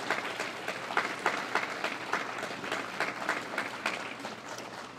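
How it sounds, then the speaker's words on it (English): A crowd of students applauds at a school achievement celebration, dense steady clapping with no talk over it, heard from moderately close. "Give yourselves another round of applause."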